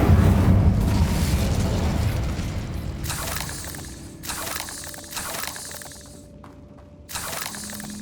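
Casting the Incendio fire spell in Hogwarts Legacy sets off a loud whooshing, roaring burst of flame that fades over a few seconds, followed by shorter crackling bursts.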